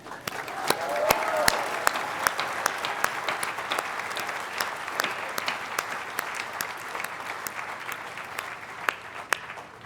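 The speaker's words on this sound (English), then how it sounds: "Give yourselves a round of applause." Graduates and supporters applaud at a University of Aberdeen summer graduation ceremony, steady hall-filling applause with sharp individual claps standing out throughout.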